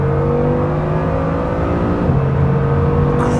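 A Bugatti Chiron Super Sport accelerates hard on the Autobahn, its engine droning loud and close from inside the cabin, pitch rising steadily with a shift partway through before pulling on again.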